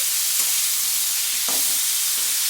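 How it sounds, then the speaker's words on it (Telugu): Pieces of food being stirred with salt and turmeric in a pan: a few soft scraping strokes over a light, steady sizzle, close and without talk. "కలిపేసి మొత్తంగా సాల్ట్ పసుపు మొత్తం అన్ని ముక్కలకి పట్టినట్లుగా మనం ఇలా కలుపుకోవాలండి"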